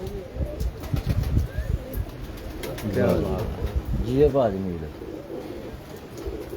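Pigeons coo in several low, throaty bursts, prized top-quality birds damp from rain, heard mid-distance under ongoing conversation between men.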